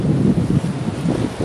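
Steady outdoor wind buffets the microphone with a low, rumbling roar that surges and eases in gusts, loud and close, during a turkey cook in a trash can; no one speaks.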